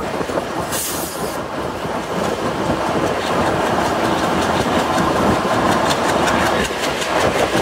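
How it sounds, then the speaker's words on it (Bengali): A Bhanga commuter train rolls through Sreenagar station, heard from on board as a loud, steady rumble with rhythmic clickety-clack of wheels over rail joints and a brief high squeal early on. "আমাদের ট্রেনটি এখন শ্রীনগর রেলওয়ে স্টেশনের 2 নম্বর প্ল্যাটফর্ম দিয়ে অতিক্রম করে যাচ্ছে"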